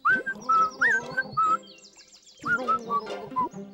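A cartoon Tick-Tick bird chirps repeatedly in short, bright, high tweets with quick squeaky trills, close and clear, with no talking.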